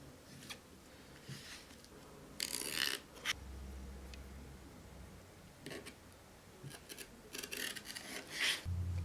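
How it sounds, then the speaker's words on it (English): Duct tape being pulled and pressed down as trim along the top of a plastic piece, with intermittent bursts of ripping and rubbing, close and fairly quiet, separated by gaps of low handling noise. "now what I'm doing is taking a piece of duct tape, and I'm going to be adding some trim to the top"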